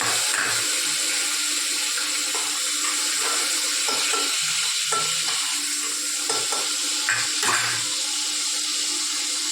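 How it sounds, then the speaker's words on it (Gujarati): Tomatoes sizzle in hot oil over a mustard seed and cumin tempering, a steady close frying hiss with intermittent stirring scrapes, no voices. "ટમેટાથી વઘાર કરીએ।"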